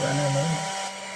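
The small cooling fan of a mini GPON OLT network unit whirs with a steady, faint, high-pitched hum that drops slightly in pitch as it runs.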